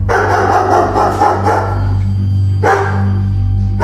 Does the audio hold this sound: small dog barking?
yes